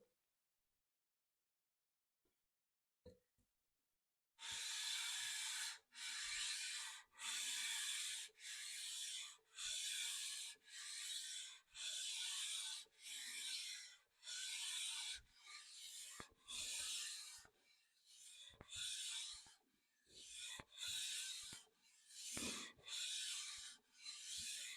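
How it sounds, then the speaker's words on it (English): Old, worn sandpaper rasps across metal in repeated long strokes, each a loud gritty scrape separated by brief pauses, after a few seconds of near silence at the start. "this is really old sandpaper, not well suited for metalworking"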